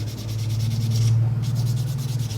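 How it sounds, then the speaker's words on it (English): Steady scratchy rubbing of sandpaper on a balsa wood fishing lure, close and continuous with a low hum underneath, no voices. "I'm gonna stop sanding this thing"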